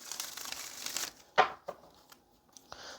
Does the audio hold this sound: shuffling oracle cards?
yes